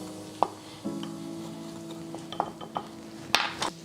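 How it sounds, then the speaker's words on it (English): Seasoning being mixed together in a bowl in a home kitchen, with a few soft clinks and scrapes of utensil against the bowl over a low steady hum, then brighter knocks toward the end. "We just want to get it together, mix it all up."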